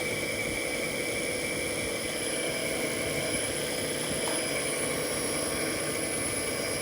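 A new generator runs under load at about 680 RPM, giving off a steady, continuous hum and whir with fixed high tonal whine lines, constant and unbroken throughout.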